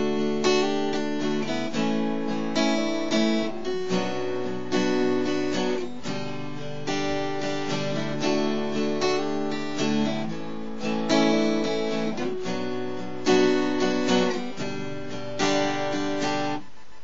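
Guitar plays the intro of a song: a repeating pattern of chords and picked notes with hammer-ons, steady and clear, with no talking.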